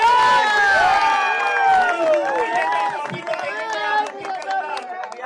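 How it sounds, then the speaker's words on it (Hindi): A crowd at a local cricket league final's trophy presentation cheers and whoops, with shouted voices and scattered clapping blending into a loud, sustained din. "एक बार जोरदार तालियां।"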